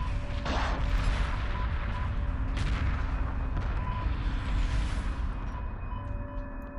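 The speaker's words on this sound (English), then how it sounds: "We're under fire" Heavy space-battle weapons fire from Homeworld Remastered booms and rattles continuously, with dense cannon blasts, sharp impacts and a steady mechanical rumble, loud and close, with no voices.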